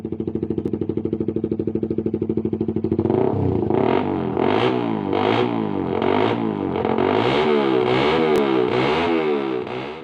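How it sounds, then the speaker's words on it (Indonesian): Suzuki 150cc motorcycle with a racing exhaust, idling in a steady rapid throb and then revving up into a loud, continuous rasping roar that swells and dips. "Karena motor ini kalau pakai knalpot racing, suaranya pasti blebek aja."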